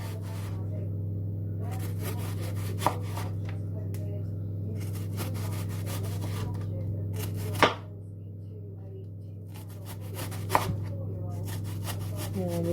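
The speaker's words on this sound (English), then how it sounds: "it's time to finally slice these onions as thin as you possibly can." Sharp knife slicing onions thinly on a board for an apple slaw, soft repeated cutting strokes with a few sharper knocks at steady intervals over a constant low background hum; no talk.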